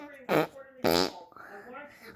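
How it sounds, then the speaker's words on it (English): A person blows mouth fart noises, two loud, short, buzzy blasts with a pause between, followed by a softer, drawn-out raspy sputter that tails off. No words are spoken. "but everybody can do this fart."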